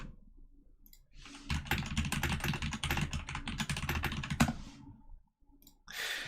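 Rapid typing on a computer keyboard, a dense run of close clicks for about three seconds with a quiet lull before and a brief burst at the end.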